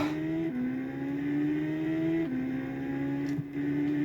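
A looped car engine sound from a PS2 racing game drones steadily at a near-constant pitch that jumps up slightly at intervals, like a repeating loop, loud and continuous.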